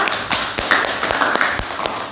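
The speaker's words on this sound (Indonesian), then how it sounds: "Beri tepuk tangan yang meriah untuk kita semuanya." Fifth-grade classroom pupils clapping briefly, a short burst of loose, uneven claps with a few sharper taps standing out, close and fairly loud.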